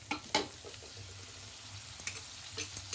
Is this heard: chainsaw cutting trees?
no